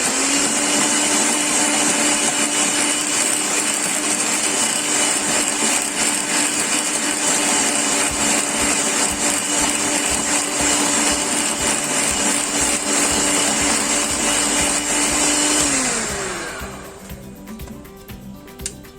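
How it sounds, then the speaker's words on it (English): An electric whisk beats a cake mixture with added caster sugar in a loud, steady motor whine that runs continuously, then winds down and stops near the end. "take your caster sugar and put half an amount of caster sugar and whisk it again"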